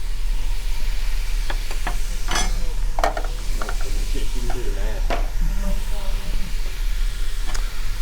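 Oxtail browning in a pan ahead of a wine-braised ragu, with a steady sizzle under scattered clinks and scraping, while a person talks over it.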